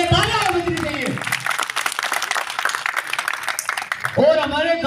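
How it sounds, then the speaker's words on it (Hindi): Applause from a crowd at an SFI panel welcome gathering for Shekhawati University in a village, a steady wash of clapping between stretches of a voice over a loudspeaker. "इनके लिए तालियां बजनी चाहिए।"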